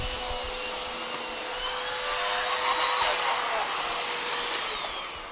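A Clean Obsessed CO888 canister vacuum turbo brush head spins up, a steady motorised whirring whine with a rising pitch that holds for several seconds, close and without talk.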